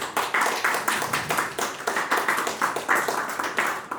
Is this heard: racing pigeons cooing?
no